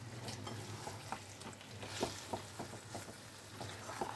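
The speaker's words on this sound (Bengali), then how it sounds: "এখন এইভাবে এটাকে কষবো" Chicken Mughlai curry being stir-fried in a pan, a steady low sizzle broken by repeated scraping stirs and soft clinks from the spoon, close by with no talking.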